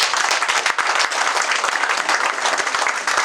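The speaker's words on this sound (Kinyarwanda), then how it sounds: "Rwose abari hano mu ntiza amashyi tubashimire." Dense, loud applause from an audience at a training-center graduation ceremony fills the room: many hands clapping at once in a continuous, even wash with crisp individual claps, no talk.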